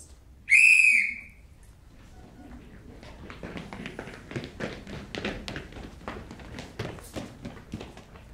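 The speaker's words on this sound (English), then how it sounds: "That whistle makes me feel like a sheepdog." One short, shrill whistle blast sounds near the start of a school stage play, followed by softer tapping and footsteps.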